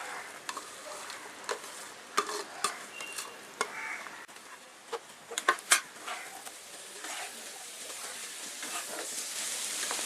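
Five large sliced onions drop into a hot pan of browned chili powder for Kerala beef roast, sizzling steadily while a utensil stirs and scrapes with scattered sharp clinks.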